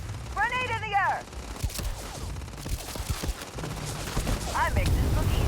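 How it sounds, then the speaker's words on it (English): Rapid bursts of gunfire and explosive booms from a grenade fight in the video game Starfield, loud and dense throughout, with shouted game voice lines and whistling tones mixed over the battle noise. "Grenade in the air!"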